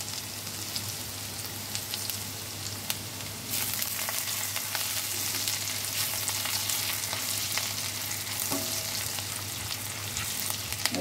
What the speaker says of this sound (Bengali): রসুনটাকে একটু হালকা ফ্রাই করে নেব।